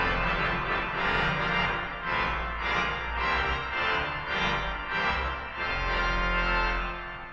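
A chancel pipe organ in a Washington DC church sounds its chamade trumpet, clairon and 16-foot contra trumpet reeds together, a brassy sustained chord progression with deep bass, moderate and reverberant, without voices.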